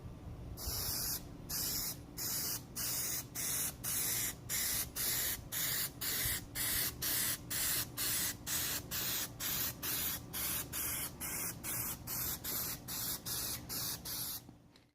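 A spray can lays a glossifier coat of Plasti Dip onto a grill in quick, repeated hissing bursts of even length. The bursts are evenly spaced and close by, with nothing else heard.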